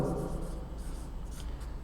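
Pen or marker writing out multiples of 17, with brief close scratchy strokes over a low steady room hum.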